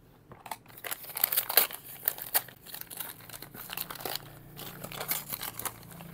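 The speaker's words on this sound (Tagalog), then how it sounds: "Ayan, pinunit ko na." Packaging of an entry-level gas blowback airsoft unit is torn and crinkled open by hand, close up. It gives a run of irregular crackling rips and crumpling bursts with no talk.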